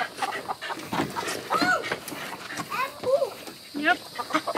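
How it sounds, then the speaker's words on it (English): New chickens are loaded from a wagon into a farm coop, clucking in short bursts among people talking close by. "You're putting your new chickens in the coop?"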